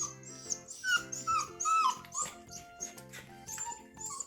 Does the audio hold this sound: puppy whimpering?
yes